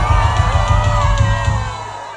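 A crowd cheers and whoops loudly over a thumping beat, the noise dense and continuous before easing off at the end.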